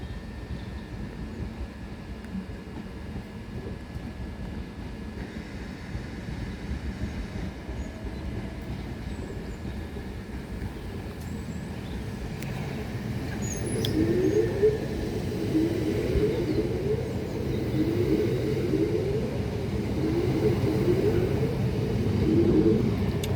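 A Class 375 empty stock train runs through Tonbridge on the South Eastern Main Line, a steady rumble of wheels on rails swelling louder as it nears, with an odd grinding squeal from the rails joining partway through.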